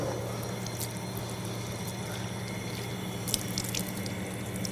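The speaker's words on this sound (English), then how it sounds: "Then a person should wash his hands, starting from the beginning of the fingers until the elbow." Tap water runs steadily into a sink during ablution as the hands and arms are washed from the fingertips to the elbow, a continuous close splashing flow with faint drips and no talking.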